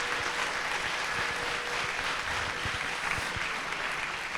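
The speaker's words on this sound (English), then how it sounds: "Another round of applause for our panelists today." Audience applause for panelists at the close of a Women's History Month panel in a high school assembly, a dense, steady wash of many hands clapping at moderate level throughout.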